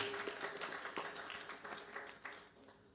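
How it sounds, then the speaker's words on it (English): A room audience at a Sunday birthday programme in a Sai Centre hall claps for the altar team, a quiet, steady patter of many hands continuing for a few seconds with no talk over it. "a big round of applause again to the altar team"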